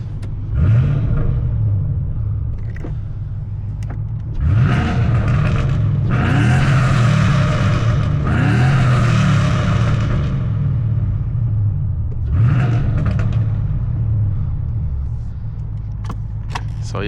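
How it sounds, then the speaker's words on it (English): Untuned Ford Mustang GT with aftermarket headers revving: a deep idle rumble broken by several loud, close blips and two long sustained pulls, then easing back to a heavy burble. "But I can rev it right here for y'all."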